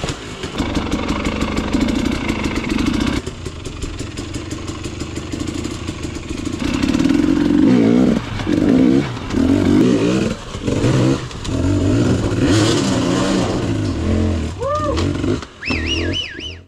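Dirt bikes ride a single-track expert trail, engines revving, idling and accelerating with a continuous loud drone, fluctuating throttle and mechanical clatter throughout, fairly close.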